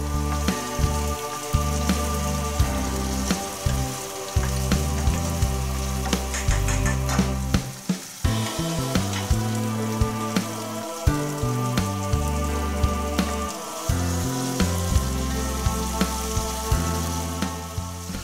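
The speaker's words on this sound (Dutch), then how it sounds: "Dan leg je de plakken aubergine er met de snijzijde in. Laat ze een paar minuten meebakken." Aubergine slices fry cut side down in a pan, giving a steady crackling sizzle like light rain. It runs throughout at a moderate level beneath prominent background music.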